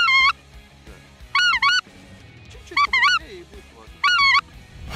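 A goose call lure blown to imitate goose honks on an open field during a goose hunt in Leningrad Oblast: four loud, close bursts of two-note honking separated by short quiet gaps.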